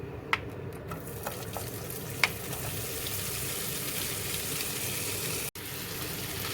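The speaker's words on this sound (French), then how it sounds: "nous allons mettre cuire nos lardons" Bacon lardons fry in fat for mini quiches, a steady soft sizzle crackling close by with a few light clicks of a utensil stirring the pan.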